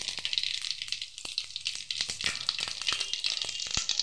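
White cumin seeds sizzle in hot white cooking oil in a wok, a continuous bright crackle with scattered sharp pops, steady and fairly close, with no talk.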